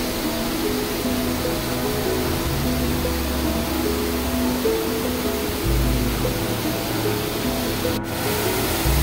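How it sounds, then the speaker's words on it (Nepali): A small waterfall at Sundarijal rushes in a loud, steady broadband roar that continues unbroken throughout, with no voices. "यो चाहिँ सुन्दरी जलमा रहेको सानो झर्ना"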